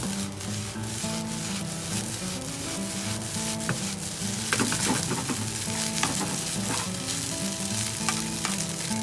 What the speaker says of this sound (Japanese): まだジュージューしていますね。